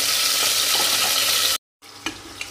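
Vegetables frying in a pan for a chicken stew, with a loud steady sizzle that cuts off abruptly, then quieter sizzling with a couple of stirring clinks.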